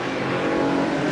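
Loud, close engine roar of IMSA GTP race cars on the pace lap at Portland in 1985, weaving to scrub in their tires, a brief sustained drone with a slight rise.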